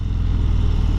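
A deep, rough Harley-Davidson motorcycle engine rumbling steadily at idle, loud and close, with a lumpy, uneven low throb.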